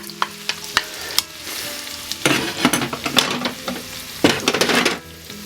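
Onions and garlic frying in butter in a pan for chicken madras, with a steady crackling sizzle, loud close bursts as the mix is stirred, and scattered sharp pops throughout.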